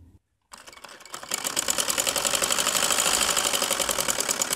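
Sewing machine running steadily as it stitches the shoulder seams of a linen kameez with embroidery work, a fast even mechanical rattle that starts after a short pause and holds loud and close throughout, with no talk.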